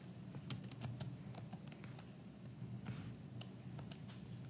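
Typing on a computer keyboard while entering a spreadsheet formula: quick bursts of light, crisp key clicks with short pauses, close and alone over a faint room hum.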